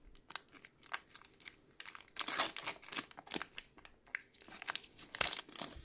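Close crinkling and ripping of the foil wrapper as a Pokémon Silver Tempest booster pack is torn open, in dense bursts of crackle with brief pauses, quiet and near, with no talking.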